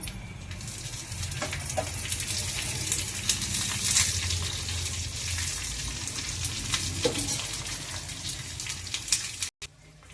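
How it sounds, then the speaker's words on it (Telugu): Onion tempering frying in oil for a lentil and bottle gourd curry, a continuous busy sizzle with occasional light utensil clinks, ending in a brief cut to silence. "కొంచెం 1 నిమిషం అలా వేగితే మనం పోపులో వేసేసుకుందాము"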